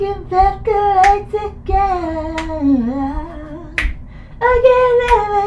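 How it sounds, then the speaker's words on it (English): Crisp finger snaps punctuate a song at irregular intervals, a few distinct close clicks beneath a sustained sung melody. "Snapping, snapping in the air"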